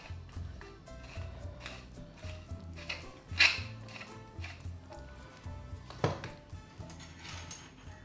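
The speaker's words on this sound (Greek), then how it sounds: "Ανακατεύω." Stirring cabbage roll filling seasoned with salt and pepper in a pot, spoon scraping and clinking against the sides in a steady rhythm, with a couple of sharper knocks standing out.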